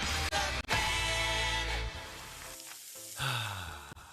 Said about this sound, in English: That's the sound of James adding long-lasting gain scent boosters to his laundry this morning.